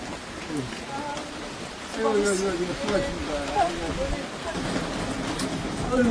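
Rain falling outdoors on a grey, wet day in Japan, a steady hiss of drops on surfaces that swells louder midway, with people talking over it.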